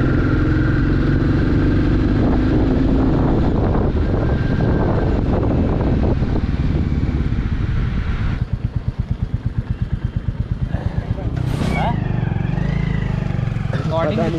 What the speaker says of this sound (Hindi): ये बुलेट चलाने में बहुत मेरे को मज़ा आ रहा है।